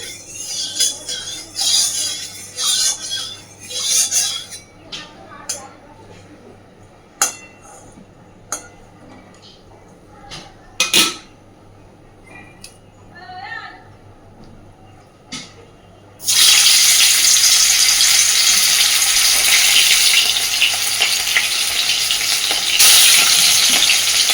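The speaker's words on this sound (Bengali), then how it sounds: "খুব অল্প তেলে মাছটা ভাজবো" Pangas fish frying in a little hot oil: quiet stretches broken by stirring clatters and sharp clicks, then a loud, steady sizzle bursts in and holds to the end.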